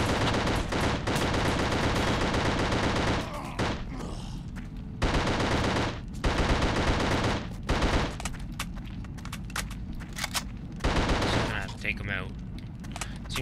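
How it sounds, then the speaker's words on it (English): Sustained bursts of enemy gunfire in the horror shooter The Suffering, loud rapid automatic volleys broken by brief pauses, with game sound between the shooting. "Now, these guys are gonna open fire on me."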